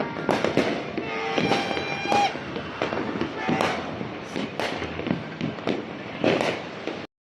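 New Year's Eve fireworks crackle and bang repeatedly in rapid, irregular bursts nearby, with voices shouting faintly among the explosions.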